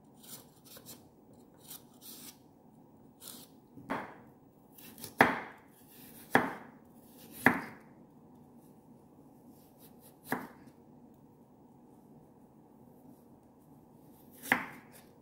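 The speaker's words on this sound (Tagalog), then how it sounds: "yung paghihiwa ng carrots guys is yung maninipis din" Knife slicing carrots thinly on a cutting board, a handful of sharp, distinct chops spaced a second or two apart, close and crisp against a quiet background.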